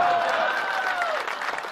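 Audience at a Veer Ras kavi sammelan poetry recital breaking into a short burst of clapping, fairly loud and close, with a voice still sounding over it.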